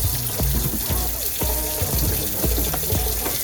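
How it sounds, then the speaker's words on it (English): Hands being washed under a running kitchen tap while making homemade yogurt, a steady loud rush of water with splashing and sloshing as the hands move through the stream. "now I have to wash my hands"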